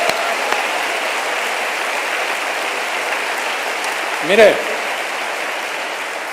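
A church congregation at a Spanish-language worship service claps, a steady wash of applause that carries on evenly, while a voice speaks briefly over it near the end.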